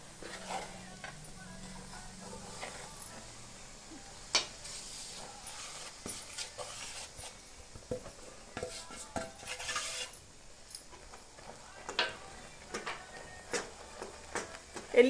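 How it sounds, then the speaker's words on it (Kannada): Gram flour being stirred into hot ghee in a pan while making besan ladoo, giving scattered scraping and clinking of a utensil against the pan, with soft irregular stirring sounds throughout. "ಆ ತುಪ್ಪಕ್ಕೆ ಕಡಲೆ ಹಿಟ್ಟನ್ನ ಬೆರೆಸ್ತಾ ಇದ್ದಾರೆ ನೋಡಿ."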